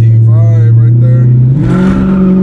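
A Dodge Charger 392 with its V8 held on launch control holds a loud, close, steady engine drone that swells as revs climb, with a voice speaking over it.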